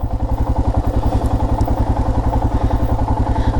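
Royal Enfield Himalayan motorcycle being ridden, its single-cylinder engine giving a loud, close, rapid and even thumping pulse throughout, with no speech.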